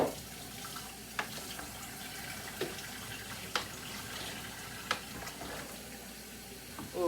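Water or broth poured into a pot of brothy soup made from leftovers, a gentle trickling, filling sound heard close up, with a few soft clinks and taps along the way.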